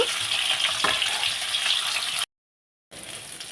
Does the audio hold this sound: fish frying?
yes